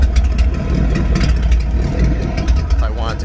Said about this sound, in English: I can open it up and it comes out the other exhaust